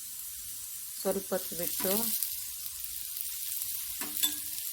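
Thin-cut potato slices frying in oil in a pan, with a soft sizzle under brief speech in Kannada and a few scraping stirs.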